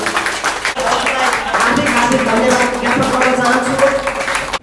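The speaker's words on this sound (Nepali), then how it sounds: "कृपया उहाँको लागि बेजोड ताली बजाइदिनुहोला" Applause from an audience at an indigenous nationalities federation gathering in Macau, a steady wash of clapping that stays loud for several seconds with voices mixed in.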